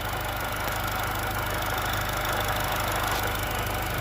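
An R53 Mini Cooper engine, fitted with new fuel injectors, idles with a steady, even hum and faint mechanical clatter, with no talking.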